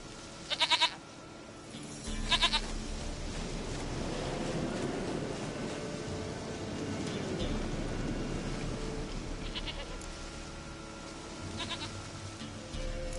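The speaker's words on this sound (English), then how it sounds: "Goat of mine, dearest," A goat in the Witcher 3 game bleats in a few short, sharp calls near the start, then again faintly later, over a steady low ambient hum with no talking.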